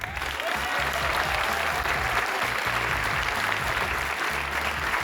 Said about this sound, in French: On peut tous les applaudir bien fort.